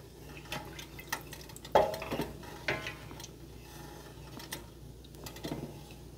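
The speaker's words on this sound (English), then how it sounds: "make sure I give that a little bit of a stir now and then." A spoon stirs tomato chicken soup in a pot, giving soft scattered clinks and taps against the metal with faint liquid sloshing, one sharper knock standing out, all fairly quiet and close.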